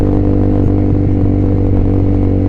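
Honda CBR150R motorcycle fitted with an RX8 slip-on exhaust, idling with a steady, deep burbling drone and faint mechanical clatter, close and continuous with no talk.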